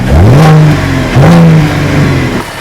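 A Cadillac ATS with a 3.6L V6 and resonator delete revs up twice in quick succession, each rise climbing sharply then dropping, loud and close, with the engine settling to a lower idle at the end.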